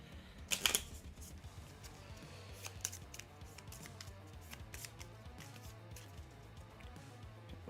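Hit location cards from the board game Kingdom Death: Monster get a quick shuffle, a short burst of crisp riffling near the start followed by faint ticks and taps of handled cards, quiet and close with no voices.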